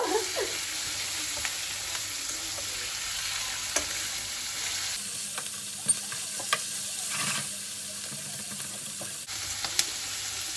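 Liver fries in oil in a pan on a hot stove, giving a steady close sizzle with occasional spoon scrapes and small pops, the tone shifting partway through.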